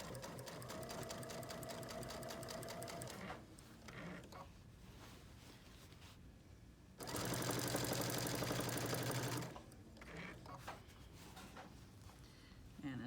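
A sewing machine with a walking foot stitches quilt pieces in bursts: a long steady run, a brief pause with light handling noises, then another loud fast burst of stitching before it eases off again.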